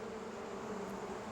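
Bees buzzing in a steady, droning hum, close and continuous with no pauses or talk over it.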